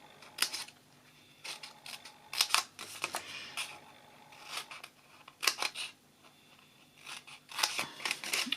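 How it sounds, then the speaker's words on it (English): Scissors cutting card along score lines for a gift box: a series of short, crisp snipping chops in small bursts, close and fairly quiet, with brief paper rustles between cuts. "you cut up those score lines as far as the second score line"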